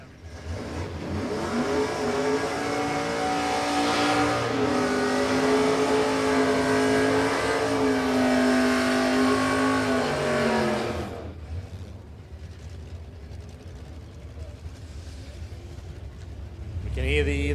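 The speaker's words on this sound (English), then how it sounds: "We can hear the sweet, sweet sound of a nitrous purge." A nitrous purge from a Willys Jeep drag car at a drag strip: a loud, steady hiss with engine noise for about ten seconds, then it cuts off, leaving quieter background and a commentator talking.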